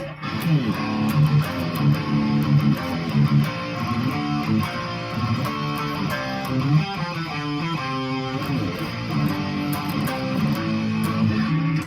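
A distorted electric guitar plays a chugging, repeating riff with palm-muted notes, steady and close, with no voices.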